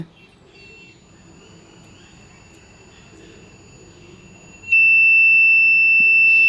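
A steady high-pitched electronic buzzer tone from a homemade rain alarm drones, then jumps suddenly louder and shifts pitch near the end, continuing without pause.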